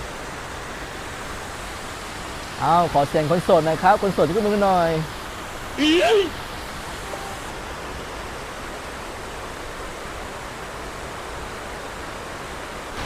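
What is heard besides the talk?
waterfall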